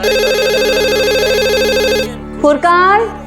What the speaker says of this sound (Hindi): फुरकान बेटा फोन देखो, मैं फरहीन को खाना खिला रही हूँ।